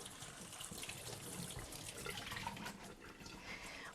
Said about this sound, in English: I'm gonna rinse it again to make sure it is clean